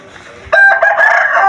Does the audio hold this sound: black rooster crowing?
yes